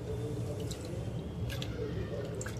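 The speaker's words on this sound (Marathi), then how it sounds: "तर ही डाळ मी 3 वेळा पाण्यामध्ये धुवून घेतलेली आहे।" Chana dal being rinsed by hand in a vessel of water, close-up soft sloshing, squishing and dripping in a continuous wet stream.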